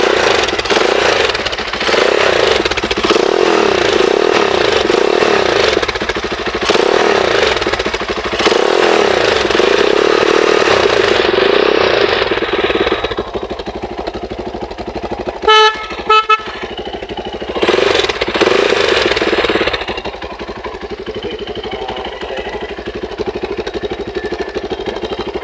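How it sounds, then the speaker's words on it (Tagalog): A motorcycle with a quiet stock exhaust pipe fitted with a silencer runs steadily, with a brief horn toot midway. The engine drops to a softer idle-like hum in the second half, with no speech. "Ang tahimik nga ba tong stock pipe na nakuha natin?"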